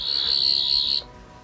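A toy Doctor Who sonic screwdriver gives a steady high-pitched electronic whine for about a second, then cuts off abruptly into quiet room noise.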